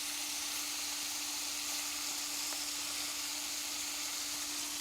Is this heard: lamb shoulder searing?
yes